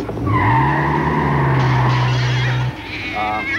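A car accelerates and its tires squeal in a long, loud skid with a sustained rising whine, followed by a rougher engine note, close and with no talk.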